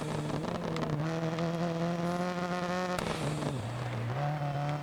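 A rally car engine in the DIRT Rally video game, developing engine issues, drones steadily with a buzzing, strained tone that dips briefly in pitch before recovering, loud and continuous with no talk.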